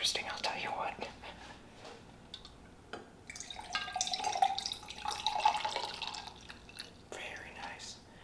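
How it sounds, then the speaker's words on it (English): A mixed cocktail with a few ice cubes is poured out of a glass, giving trickling, dripping liquid with light clinks, close and quiet beneath a soft whispering voice. "I've bended a few ice cubes into the glass. I just thought it would make it look a little cooler, but let's pour it out."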